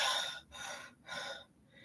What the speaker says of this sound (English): you ever hear me breathe?